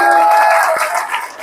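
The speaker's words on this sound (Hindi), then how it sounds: "तालियां बजाओ साथ में।" Audience applause breaks out at a motivational business seminar for an RCM network-marketing group, a dense, steady clatter of many hands that holds through the whole moment, with a faint tail of crowd noise beneath.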